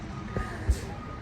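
A big truck reverses on a city street in Montreal, its backup alarm giving a steady, faint beep over distant traffic rumble. The burst is brief.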